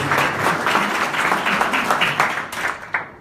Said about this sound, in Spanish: Un aplauso para nuestro panelista, Jesús Cruz.